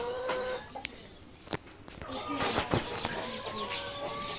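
Chickens on a poultry farm holding layer hens about three months old cluck and squawk in short bursts. The birds are nearby and moderately loud over a steady background hum, and someone talks over them.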